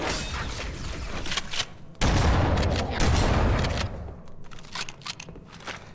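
Shotgun fire in Halo: CE Anniversary, loud blasts and crunching impacts amid a busy firefight, with the heaviest bursts bunched in the middle before thinning into scattered shots.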